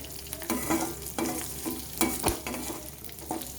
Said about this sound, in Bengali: কাঁচা লঙ্কা আদাটা দিয়েও কিছুক্ষণ নেড়ে চেড়ে দেবো, খুব বেশি নয়, হালকাভাবে